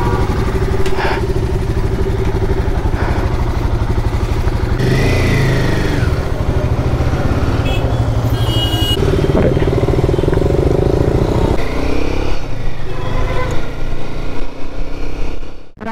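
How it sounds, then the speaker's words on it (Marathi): A freshly serviced motorcycle on a long ride from Kota to Mumbai runs loud and close with a continuous throbbing engine drone, steady throughout with slight shifts in pitch and a rattle of wind, then cutting off at the end. "आमच्या सागर अण्णाच्या मोटरसायकलची सर्व्हिस झालेली आहे"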